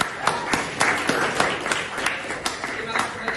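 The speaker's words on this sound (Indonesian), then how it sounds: "Tepuk tangan buat yang kuat." A small audience claps, with uneven individual claps standing out close by in a steady patter, while a voice speaks underneath.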